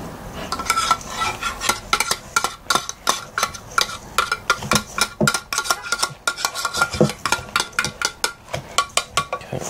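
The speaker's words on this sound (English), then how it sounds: "And you just keep folding it in until it's all mixed together." Spoon folding Dungeness crab cake mixture with breadcrumbs in a bowl, a steady run of wet, scraping strokes clinking against the bowl at a brisk, even rhythm, close and alone.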